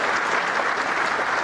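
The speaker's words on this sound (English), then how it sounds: "give them a round of applause" A large audience at a Kaiser Permanente seminar for people over sixty gives volunteers in green shirts a round of applause, dense steady clapping filling the whole short stretch.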